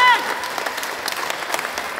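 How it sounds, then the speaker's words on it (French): A crowd outside the Avignon courthouse applauds and cheers for Gisèle Pelicot, with dense scattered clapping and a brief shout at the start, heard at moderate distance. "une foule se réunit pour les acclamer"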